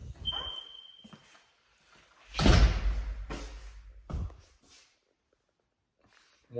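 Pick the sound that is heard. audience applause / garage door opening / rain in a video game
garage door opening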